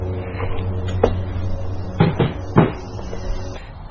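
Cabinet doors on the back of a garage workbench open and shut, with a soft knock first and then two sharper wooden bangs close by, set against a steady low room hum.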